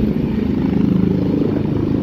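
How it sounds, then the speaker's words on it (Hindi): A helicopter turning in flight just after takeoff from an outdoor rally gives off a loud, continuous rotor and engine drone that stays near and steady. "और यू टर्न होता हुआ नजर आ रहा है हेलीकॉप्टर।"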